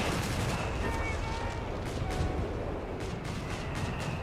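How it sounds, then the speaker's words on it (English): Recce artillery shells land on a machine gun team in the real-time strategy game Company of Heroes 3, a steady dense rumble of blasts and gunfire with a few sharper impacts near the end. Commentators talk faintly underneath. "MG gets hit by the Recce artillery."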